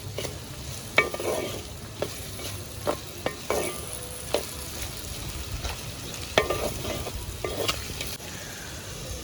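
A spoon stirs mutton curry gravy in a clay pot, with steady scraping strokes and sharp clicks against the pot over a soft sizzle, close and moderately loud.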